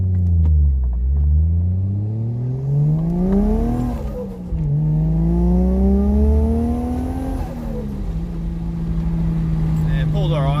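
A Toyota JZX110 with a rough, dropping idle accelerates hard through the gears, its engine note rising steadily, dipping at each shift and climbing again, loud and close from inside the car.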